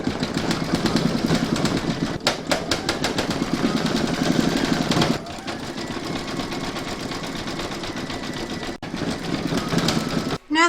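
An embroidery machine satin-stitches the face of a koala cuddly toy with a fast, steady mechanical chatter that shifts pace midway and continues at a lower level.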